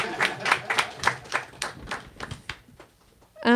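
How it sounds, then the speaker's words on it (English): An audience at a bookstore book launch event claps for its guests, giving a burst of close, fairly loud hand claps that thin out and briefly pick up again at the end. "Round of applause for our lovely guests."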